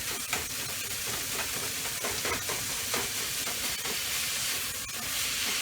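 Onions and bacon sizzle and crackle in a hot pan on high heat, a steady close frying hiss for fried rice with faint stirring scrapes, no talking.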